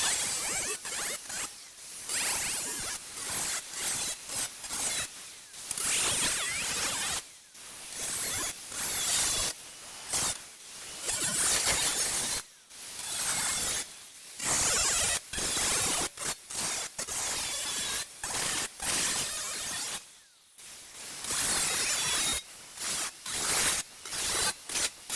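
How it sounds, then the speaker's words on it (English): Something is cut away around the seat of a racing mower, giving repeated loud, rasping strokes in bursts separated by short pauses over about twenty-five seconds, with no talking. "now we're cutting around the seat to make it so we can get the seat down"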